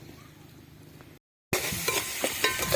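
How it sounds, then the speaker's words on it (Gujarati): Chili tempering crackles and sizzles loudly in hot oil, breaking in suddenly after a quiet stretch and a short gap of silence, with stirring clinks of a utensil against the pot. "મરચું મરચું વઘાર કરી નાખ્યો મસ્ત"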